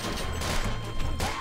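Rapid, dense machine gun fire from a video game, a continuous rattling burst lasting over a second with no speech.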